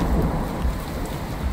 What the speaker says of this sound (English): this is a shitty storm coming in